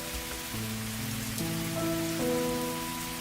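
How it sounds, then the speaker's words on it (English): Rain falls as a steady hiss of drops throughout, mixed with sustained melodic tones that shift pitch every second or so. "As I trekked through the rain"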